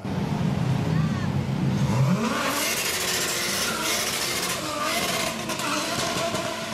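A 350 horsepower rear-wheel drive car slides sideways under acceleration, its engine revving hard and rising in pitch, then roaring on with loud continuous tire and engine noise, while faint commentary talk runs underneath.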